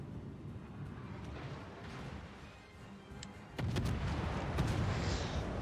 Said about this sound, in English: his guns sound beefy